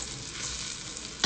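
Garlic fries in butter in a pan after bacon, giving a brief, even sizzling hiss that ends with a sudden knock.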